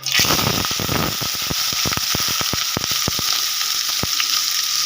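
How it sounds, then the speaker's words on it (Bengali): Bitter gourd frying in oil with only salt, a loud steady sizzle with repeated scraping stirs, dense at first then spaced out. "শুধু লবণ দিয়ে আমি ভেজে নেব কোনো হলুদ দেবো না"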